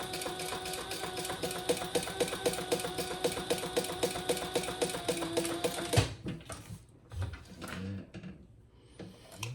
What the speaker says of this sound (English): I'm just gonna stitch down both sides before I do anything else.